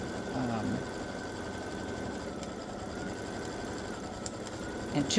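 A quilting machine sews an edge-to-edge double loop design, a steady continuous mechanical hum and whir with a faint voice partly over it.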